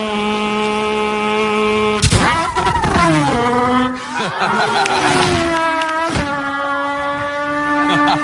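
A human voice mimics Formula One race car engines, with high whining revs that rise and fall, sharp gear-shift breaks and sweeping pitch drops, loud and close, with a hint of laughter.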